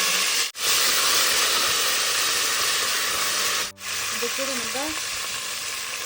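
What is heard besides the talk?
curry leaves, green chillies, coriander and mint sizzling in oil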